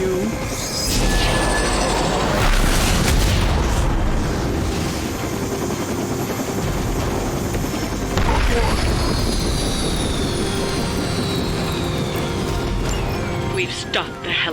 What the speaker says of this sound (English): We've stopped the helicopter.